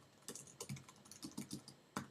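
Fast typing on a computer keyboard while composing a tweet, a quiet run of crisp, uneven key clicks at close range with no voices.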